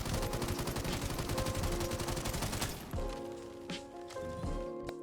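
An EXCAVA grenade gun fires in a video game with a loud, fast stream of rapid shots for the first half, then trails into scattered thumps and blasts.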